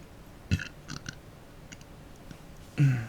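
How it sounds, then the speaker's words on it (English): A man burps close to a microphone, a short burp early and a louder, longer one at the end, with a few faint clicks between. "I shouldn't be burping into the microphone"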